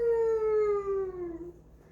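A single long, falling howl-like call trails off after about a second and a half, a person imitating a hound dog barking.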